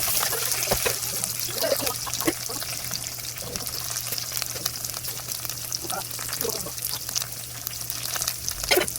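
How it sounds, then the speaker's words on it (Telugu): Onions sizzling lightly in a pan for a spicy chicken masala fry, a steady soft crackle and hiss with scattered pops, close and continuous with no talking. "ఆనియన్స్ వేసుకొని లైట్గా ఫ్రై చేసుకోవాలి"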